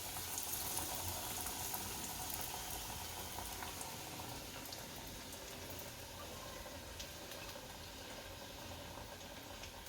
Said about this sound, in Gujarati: આ તળવા મૂકી દઈશું